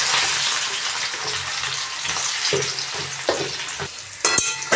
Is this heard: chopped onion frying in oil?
yes